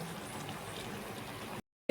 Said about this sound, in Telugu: ఈ వాటర్ అంతా కూడా ఇంకిపోయినంత వరకు మనం బాయిల్ చేసుకోవాలి.